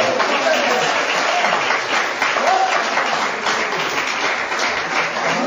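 A church congregation claps and applauds throughout, a loud, steady wash of many hands that stays even from start to finish.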